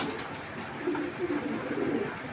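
Female racing pigeon giving soft, low, rolling coos in a couple of short phrases, close by with a faint background hum.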